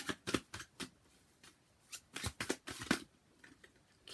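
Oracle cards shuffled and drawn by hand, a close series of soft riffling swishes and slaps in irregular bursts with short pauses between, no talking.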